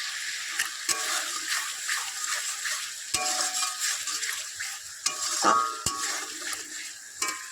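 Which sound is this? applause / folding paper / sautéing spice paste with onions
sautéing spice paste with onions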